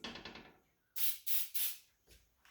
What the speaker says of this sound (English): I'm using this Baker's Joy just to keep things from sticking. And it's just a quick little spritz.